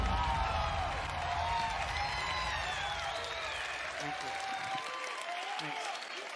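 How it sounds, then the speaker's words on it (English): Applause from an E3 Bethesda audience rolls in a dense wash of clapping. A voice talks over it, and the applause fades slightly toward the end. "That's right, you clap for the title screen."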